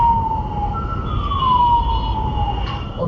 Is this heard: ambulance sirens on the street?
yes